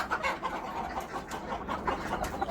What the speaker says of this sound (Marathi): अशा प्रकारे आपल्या कोंबड्या आहेत सर्व।